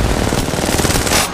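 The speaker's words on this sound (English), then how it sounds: "Opening fire." Rapid automatic gunfire from the video game Apex Legends, a dense, loud, continuous stream of close shots rattling without pause for just over a second.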